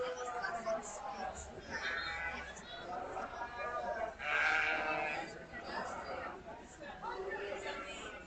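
Sheep bleating repeatedly at a county fair sheep show, with several overlapping calls, one loud close bleat in the middle, over a steady background of crowd chatter and an announcer's voice.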